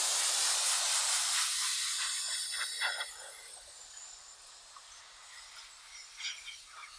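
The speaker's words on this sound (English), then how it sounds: "I'm using a jet black with an Iwata Eclipse airbrush." A steady, close hiss of an Iwata Eclipse airbrush spraying jet black paint onto sneakers, continuous, fading slightly and pulsing with a few brief bursts toward the end.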